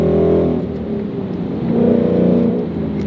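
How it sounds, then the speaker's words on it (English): Manual car downshifting with rev-matching, then flooring it: a loud, close engine drone that dips and swells as revs change, rising into a strong accelerating surge with no talk. "So we're going to go 5th gear, 4th gear, 3rd gear, and then we would floor it."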